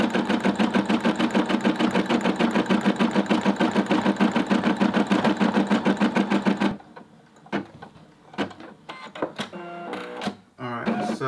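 An embroidery machine stitches steadily at close range in a fast, even mechanical rhythm for about seven seconds, then stops; after that come quieter handling clicks and short bursts of talk.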